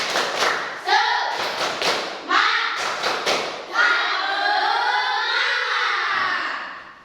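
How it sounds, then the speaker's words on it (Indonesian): Children in a classroom do a rhythmic clapping chant, tepuk semangat, with bursts of quick claps and thumps alternating with voices chanting together, ending in a long sustained group shout. "Tepuk semangat"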